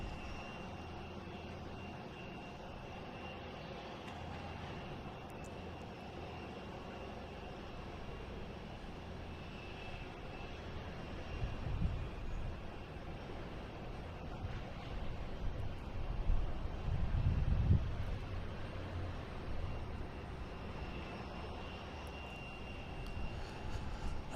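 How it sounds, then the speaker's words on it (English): JetBlue Airbus A320 from Fort Lauderdale arriving at Boston Logan International Airport, a faint distant jet roar that builds gradually and peaks with low rumbling near the end. "we have a JetBlue coming in from Fort Lauderdale, an A320"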